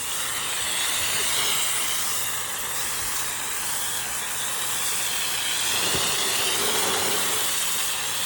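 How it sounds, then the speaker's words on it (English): A water hose sprays steadily to rinse a cleaned Florida gar outdoors, a loud continuous hissing spray lasting throughout, close by and with no talk. "Squirt it with the hose."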